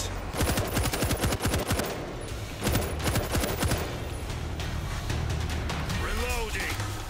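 Automatic and rapid gunfire rattles in bursts during a zombie battle in the video game World War Z, loud and close through the first half, then thinner shots under shouted voices and a rising whine near the end.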